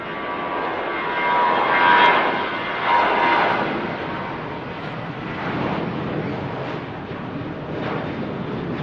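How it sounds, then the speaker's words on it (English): A Sun Express airliner taking off from Manchester Airport, a steady roaring jet engine rumble that swells and fades slightly as it climbs away at a distance. "Really smooth takeoff for the Sun Express."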